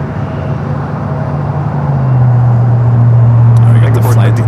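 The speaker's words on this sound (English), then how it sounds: "American Airlines Flight 1445. This flight will be heading to Dallas, Fort Worth, Texas, in A321 Neo." An American Airlines A321neo airliner at LAX produces a steady jet engine roar that rises and swells partway through, heard at a distance under a voice talking.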